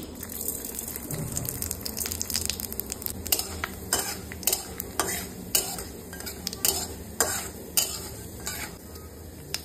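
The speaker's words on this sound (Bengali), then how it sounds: "তেল গরম হয়ে গেছে, ফোড়নে দিয়ে দিচ্ছি শুকনো লঙ্কা আর দিয়ে দিচ্ছি 5 ফোড়ন।" Dried red chillies and five-spice seeds hit hot oil for a tomato chutney, a light sizzle under sharp, repeated clinks and scrapes of a metal spoon stirring in the pan, close by.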